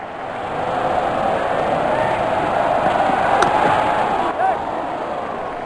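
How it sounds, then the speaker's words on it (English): At a Bangladesh versus Australia cricket match, a large stadium crowd cheers wildly in a dense, continuous roar that swells slightly midway, while a commentator's voice runs faintly underneath. "Crowd is going crazy."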